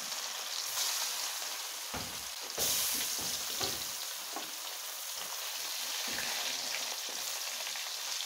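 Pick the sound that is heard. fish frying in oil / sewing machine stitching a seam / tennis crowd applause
fish frying in oil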